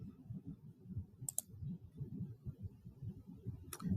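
Clicks of a computer mouse while creating a new Google Form, two or three sharp, quiet clicks spaced apart over a low, muffled rumbling background.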